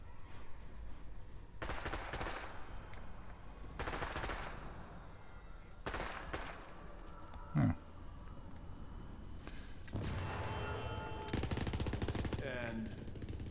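Rapid bursts of gunfire in the video game Borderlands 3 while shooting an enemy, several loud sustained volleys separated by short pauses, with a faint voice briefly underneath.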